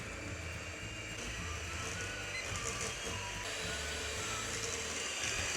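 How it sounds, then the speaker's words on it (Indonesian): An electric hand mixer beats margarine with a steady, close whirring motor drone that holds constant throughout. "Sekarang kita mixer sampai tekstur margarinnya lembut"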